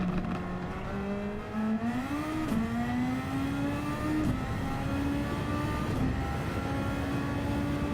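A race car engine in Gran Turismo 7 revs steadily through a time trial, pitch climbing and shifting through gears, loud and close with no one talking.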